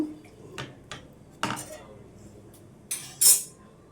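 Wheat flour halwa is stirred while sugar syrup is added little by little, heard as scattered sharp metal clinks and scrapes of a spoon against the pan over a quiet background, with no talk.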